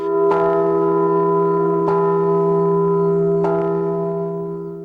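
The Liberty Bell struck three times at an even interval, each ringing strike leaving a long, steady, humming resonance that fills the gaps between hits.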